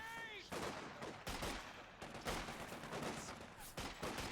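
Battle gunfire in Company of Heroes 2 during a 2v2 match: repeated sharp shots and bursts crackle through a busy wartime din, with a short voice callout early on and a steady mix of distant and nearer reports.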